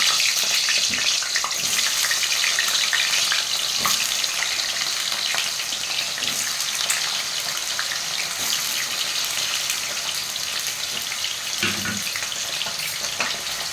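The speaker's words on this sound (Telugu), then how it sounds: "వేడైంది, ఆలుగడ్డలు అయితే వేసుకుంటున్నా." Potatoes fry in hot oil on a home stove, making a continuous, close sizzle with crackling and spattering throughout. No one speaks.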